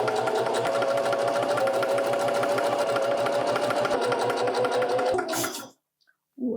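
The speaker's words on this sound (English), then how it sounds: "let's go sew them up" A sewing machine stitches soft, stretchy turtleneck sleeve fabric in one steady, loud run of rapid needle chatter lasting about five seconds, then stops abruptly, leaving near silence.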